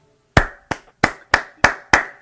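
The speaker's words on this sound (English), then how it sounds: "that's me giving an applause to AEW for winning the Wednesday Night Wars" One person claps hands six times, sharp close single claps spaced at a slow, fairly even rhythm with silence between them.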